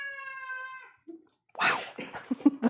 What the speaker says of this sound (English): the cat is yelling for crackers